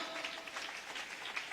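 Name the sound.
applause for the Holy Spirit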